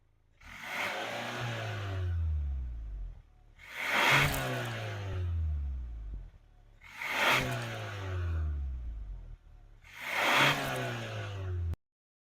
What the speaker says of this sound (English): All right, let's hear the exhaust.